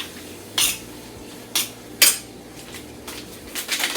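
A utensil clinks and scrapes against a dish while sauce is mixed into a stuffed pepper and shrimp filling. Several distinct metallic taps come at irregular intervals over a quiet background.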